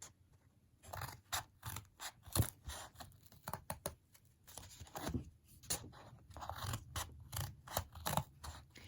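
Scissors snip through paper, cutting all the way around a shape for a woven paper pizza craft; crisp, close cuts come in quick irregular bursts with short pauses, and no one talks.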